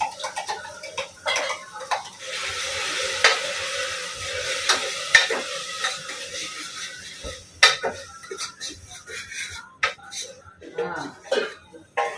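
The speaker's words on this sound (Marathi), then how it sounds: "मिरची, कोथमीर, आला लसूणचा पेस्ट आता टाकतो." Chilli, coriander and ginger-garlic paste are added to frying onion, with a soft sizzle under irregular clanks and scrapes of a spoon against the pot, near and uneven.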